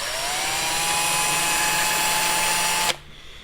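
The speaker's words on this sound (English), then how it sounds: "this is a 13/64 drill bit for this 1/4-20" A power drill with a 13/64 drill bit runs at a steady high whine, loud and close, for about three seconds, then stops abruptly and leaves a faint room hush.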